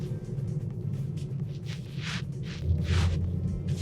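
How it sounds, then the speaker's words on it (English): Low, muffled drone of a BMW M340i or Z4 M40i B58 straight-six engine in comfort mode, a steady subdued rumble heard from inside the car that swells slightly near the end. "But the moment you turn to comfort, now listen, everything kind of drones out."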